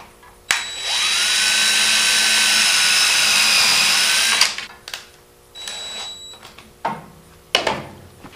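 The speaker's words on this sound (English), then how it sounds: "Now I'll just slide this out and I'll drill me a hole right here." A power drill whirs steadily for several seconds as it bores a hole, then stops, followed by some clunks and handling noises.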